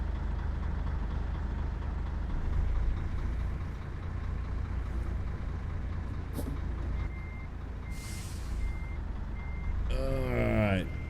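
Reversing beeps from a Scania 143M truck in Euro Truck Simulator 2, a steady repeated beep over a constant engine rumble, with an air-brake hiss and a whining sweep near the end.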